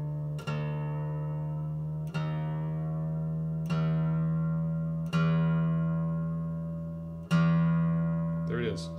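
The low E sixth string of an acoustic guitar, flat and being tuned, plucked five times at intervals of roughly one and a half seconds, each note ringing and slowly decaying, with a quick faint extra sound near the end.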